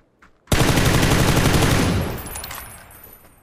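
Sustained burst of gunfire in PUBG on the Miramar desert map, loud and dense for about a second and a half after a brief faint pop, then tailing off into a reverberant decay with no talking.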